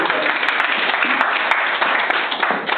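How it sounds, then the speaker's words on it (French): An audience at an alliance meeting applauds the alliance president, steady continuous clapping sounding somewhat muffled and band-limited throughout, with faint voices blended in. "Applaudissez pour M."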